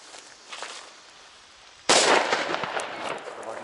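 A Di Blasio Elio Cobra 6R Silber firecracker, a New Year's Eve banger, goes off in one sharp, loud bang close by after a quiet lead-in of faint hissing, followed by a noisy crackling tail.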